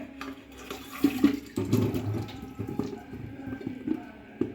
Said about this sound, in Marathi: आता आपण यामधील पाणी काढून घेणार आहोत चला तर आपण हे पाणी काढून घेऊया